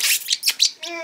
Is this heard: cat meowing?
no